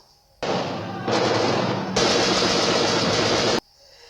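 Sustained bursts of automatic gunfire in the film Dr. Strangelove, loud and dense, stepping up in intensity twice before cutting off abruptly, with no talk over it.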